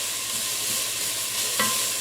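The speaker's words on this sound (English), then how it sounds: "I just pick it up and continue on browning the onions" Onions brown in a pan with garlic and bay leaves for a basic sauce, giving a steady, close sizzle with a soft stirring scrape near the end.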